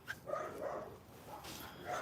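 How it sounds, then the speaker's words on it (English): Dogs in a residential neighborhood barking at people walking by, a few sharp yips and barks at moderate distance over faint background noise. "there's people walking in the neighborhood driving dogs crazy"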